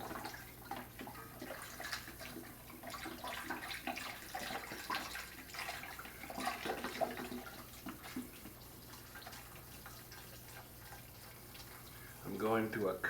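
Beef bone broth, 32 ounces, poured into a cooking pot for keto chili soup: a steady liquid splashing and trickling runs throughout at moderate level, with a brief louder gurgle near the end.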